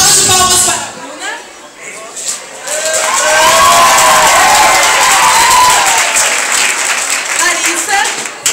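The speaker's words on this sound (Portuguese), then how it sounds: "Salva de palmas para a Bruna." Loud applause and cheering from a crowd at a gaucho-themed festival, sustained clapping with shouts swelling after a brief quieter moment and continuing to the end.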